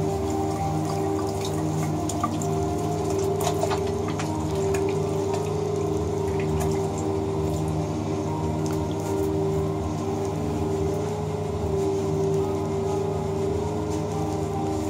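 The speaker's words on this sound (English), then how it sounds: "you wash your hands" Water runs steadily from a tap during handwashing, a constant rushing flow with a faint mechanical hum underneath and occasional splashes, no talking.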